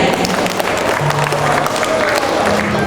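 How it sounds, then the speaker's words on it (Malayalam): Wedding guests applaud the couple: dense, continuous clapping from a crowd fills the short stretch at a loud, even level, with murmuring voices mixed in. "നമുക്ക് എല്ലാവർക്കും നമ്മുടെ സന്തോഷത്തോടെ അടിപൊളി കൈയടിയിൽ നമുക്ക് ഇവരെ എക്സ്പ്രസ് ചെയ്ത് കാണിക്കാം അല്ലേ? ഒന്ന് കൈയടി ചെയ്യാം."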